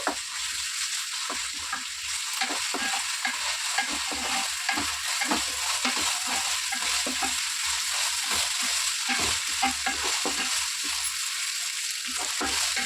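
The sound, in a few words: ginger paste frying with curry leaves and onions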